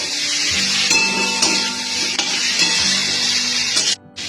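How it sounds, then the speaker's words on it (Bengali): Spices frying and being stirred in a hot pan while cooking a potato curry, a steady dense sizzle with occasional utensil knocks, close and loud, cutting off briefly near the end. "ঢেলে দিয়ে এবার একটু মশলার সাথে কষিয়ে নেব"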